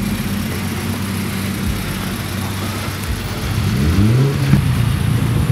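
A Ford Focus engine idles steadily nearby, then revs up and rises in pitch as the car pulls away, with outdoor background noise.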